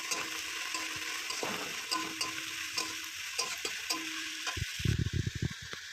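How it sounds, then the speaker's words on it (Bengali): Onion and chilli frying in a pan are stirred with a spoon, giving a steady close sizzle under repeated scraping strokes that turn into a quick burst of clattering stirs near the end. "সব কিছু দেওয়ার পরে আমি একটু ভালো করে নেড়ে চেড়ে নেব।"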